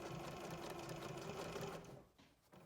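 A sewing machine stitches elastic onto a racerback sports bra in a fast, steady mechanical whir that runs for about two seconds before slowing and stopping.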